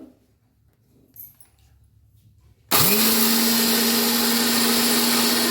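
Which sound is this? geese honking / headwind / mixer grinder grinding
mixer grinder grinding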